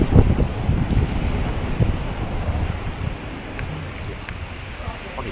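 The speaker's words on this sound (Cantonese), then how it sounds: "前面嘅樹啦，俾風吹緊" Typhoon winds lash the trees outside, a steady, roaring rush of gusting air with heavy buffeting on the microphone that carries on unbroken throughout.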